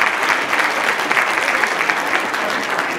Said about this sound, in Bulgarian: Моля за вашите аплодисменти още веднъж за чудните момичета.